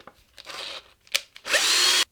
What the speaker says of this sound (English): And now I can just drill this out just like I did with the last one.